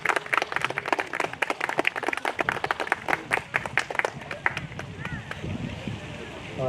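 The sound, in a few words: audience applause for Anish and Riya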